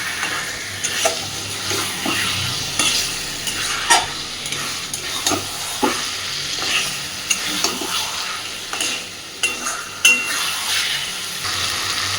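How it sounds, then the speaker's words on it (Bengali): Chicken kosha cooks as chicken pieces are stirred and fried in a pan, giving a steady sizzle punctuated by regular scraping strokes of a spoon against metal, close and fairly loud, with no voices. "মাংস দিয়েও আবারও বেশ খানিকক্ষণ সময় ধরে সুন্দর করে কষাতে থাকবে"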